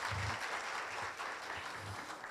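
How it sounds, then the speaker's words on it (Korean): An audience claps steadily at a university campus town fair in Korea, a dense, fairly distant patter of applause without voices. "바쁘신 중에도 이렇게 참석하셔서 오늘 행사를 빛내주신 염지열 총장님께 다시 한번 큰 박수 부탁드립니다."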